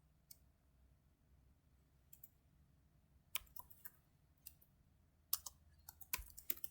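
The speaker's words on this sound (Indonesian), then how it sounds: "Nah, di sini kita akan masukkan teksnya. Kita akan ketik" Computer keyboard typing, with scattered keystroke clicks and short bursts of rapid taps that grow busier toward the end, fairly quiet over a low background hum.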